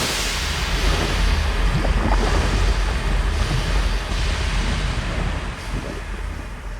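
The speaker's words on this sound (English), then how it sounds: "A gust of hot air erupts from the stone's dragon's maw." Gust of hot air erupting from a stone dragon's maw over a furnace in Pillars of Eternity, a loud, sustained rushing roar with low rumble that eases slightly toward the end.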